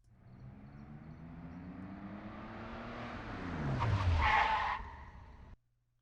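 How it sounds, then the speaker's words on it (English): A vintage race car engine roars past, pitch sliding down as it nears and recedes, growing loud before cutting off abruptly. "First, we'll hear our vintage race car."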